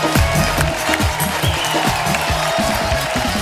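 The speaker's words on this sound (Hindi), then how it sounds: "आप सबकी जोरदार तालियों के बीच please welcome mister Jimmy Shergill, mister Abhimanyu Singh और मिस्टर इंद्रनील सेन गुप्ता" A Kapil Sharma Show studio crowd claps and cheers to welcome celebrity guests. The lively, continuous applause blends with a thumping musical beat, with no speech over it.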